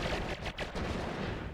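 Explosions in the video game Noita, a dense burst of loud crackling blasts in quick succession, with a short dip partway through before the noise surges again.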